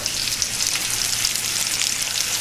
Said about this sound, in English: You can see they're sizzling away, then some of the fat is rendering out.